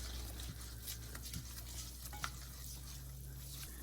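Flour being stirred into melted fat in a pan for a gluten-free pasta dish: faint soft scraping and gentle sizzle, with a few light taps of the utensil against the pan, quiet and close.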